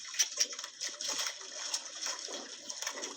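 Strong river current rushing and splashing, a broken, gurgling wash of water up close with bursts of spray over a continuous hiss.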